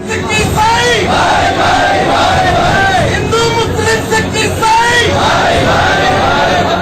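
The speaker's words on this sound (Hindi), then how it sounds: "हाथों में तिरंगा लिए लोगों ने सांप्रदायिक सद्भाव के नारे लगाए" A large crowd of protesters holding tricolour flags chants slogans of communal harmony in a loud, continuous roar of rhythmic shouted voices and babble, close and dense, with traffic in the background.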